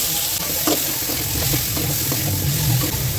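Potatoes and drumsticks stirred in a pan of frying mutton kuzhambu curry, a steady close sizzle with soft scraping stirs throughout, no voices.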